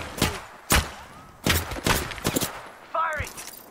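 Gunfire cracks during an Apex Legends match as sharp, separate shots and short bursts ring out at uneven intervals. Voices talk in between the shots.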